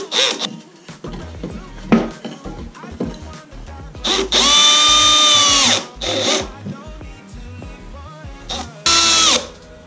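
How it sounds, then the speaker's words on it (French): A power drill driving screws into a bar for a homemade bike stand, three loud whirring bursts of a second or two each, close by, between quieter handling knocks. "on va visser cette barre."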